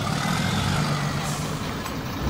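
A dump truck in the MudRunner off-road video game reverses through slippery mud, its engine droning loud and steady throughout, with a faint reversing beep tone underneath.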